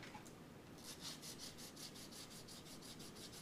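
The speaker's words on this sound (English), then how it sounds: "I'm going to sand off a little bit of notching on it." Sandpaper rubs in steady, even back-and-forth strokes across a catapult glider's finger grip as it is bevelled, a soft rasp close by.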